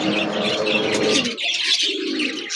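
Active pigeons coo and chirp close by, deep rolling coos at first giving way to a bright tangle of chirps and softer coos.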